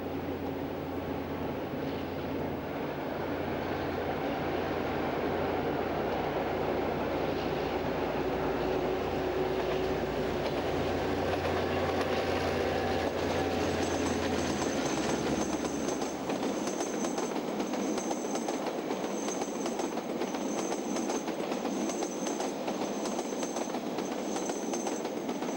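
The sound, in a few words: long train on the S-curves at Makarau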